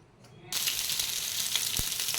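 Fish frying in a pan for a home-cooked breakfast, a steady bright sizzle that starts abruptly and continues loud and close, with a few small pops.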